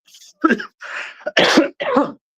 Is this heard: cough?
yes